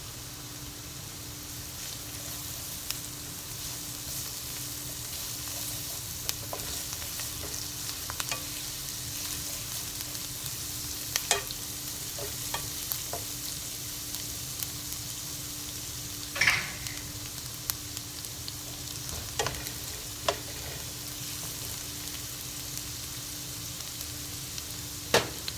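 Lots of garlic frying in a pan for ampalaya with shrimp and egg, a steady close sizzle with scattered scraping stir strokes and occasional clicks throughout.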